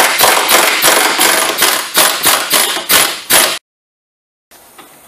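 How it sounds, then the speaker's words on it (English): A swivel ratchet loosening an 18mm cradle bolt on a 2001-2005 Ford Taurus with the DOHC 3.0 engine: a quick, close run of about a dozen loud metallic clicks, then silence. "I'm going to loosen up this 18mm cradle bolt."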